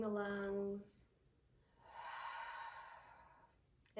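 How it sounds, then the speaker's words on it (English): Slow, audible ujjayi ocean breathing during yoga, a soft hissing exhale swelling and fading after a brief voiced tone, fairly quiet and close. "In yoga, that's called ujjayi breathing. They call it ocean breathing."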